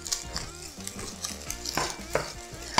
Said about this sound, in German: deswegen brate ich sie zwischen mittlerer und maximaler Hitze.